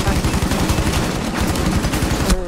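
Rapid automatic gunfire from a mounted turret in the game Rainbow Six Siege rattles steadily and loudly for the whole stretch, with a voice briefly audible under the burst.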